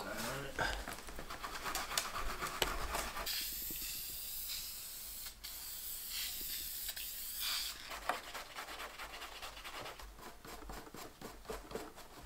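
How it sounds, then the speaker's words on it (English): Aerosol paint sprayed onto carpet-type interior fabric of a CD7 Honda Accord, with long hissing bursts near the mic, a pause in the middle, then more spraying and light brushing noises. "we're gonna spray one way, and then with the nylon brush, we'll brush it in"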